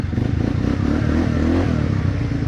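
An ATV engine turns over and settles into a steady, rough idle close by. The motor drones loudly and continuously throughout, with some mechanical clatter and no talking.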